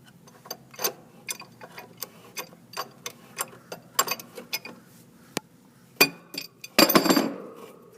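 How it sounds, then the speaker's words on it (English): Wrench gently turning an already loosened fitting on a Trane rotolock compressor: a series of light metallic ticks and clicks at an uneven pace, close and fairly quiet, ending in a brief louder rattle. "now I'm just going to turn it very gently because we've already loosened it"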